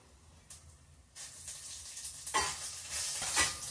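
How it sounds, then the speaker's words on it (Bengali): Two dried red chilies and five-spice panch phoron tempering in hot oil, a soft hiss that swells into louder bursts of sizzle and spluttering, building toward the end. "এখন এই যে শুকনো মরিচ দিয়ে দিলাম 2 পিস ফোড়নে"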